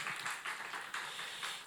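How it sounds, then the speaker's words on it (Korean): A church youth congregation claps together at a service, a soft, fairly distant patter of many hands with a steady rhythm, brief and somewhat faint. "칭찬과 사랑과 격려하고 축복하는 박수 한 번 더"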